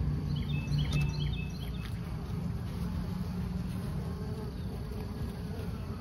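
Honey bees hum and buzz steadily and continuously around an open hive during a swarm cell inspection, with a cross-combed frame being pulled. The drone is dense and close, with no talking.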